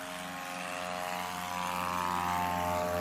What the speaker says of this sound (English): That is a great takeoff in an Aviat Husky.